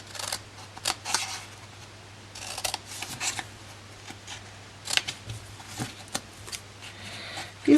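Scissors snip through patterned paper for a Stampin' Up dragonfly gift box in short, irregular bursts of close crisp cuts, with brief pauses between them and a low steady hum underneath.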